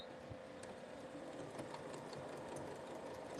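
Domestic sewing machine running steadily while stitching elastic onto a hair drying towel, a continuous close mechanical whirr with rapid needle chatter and no talking.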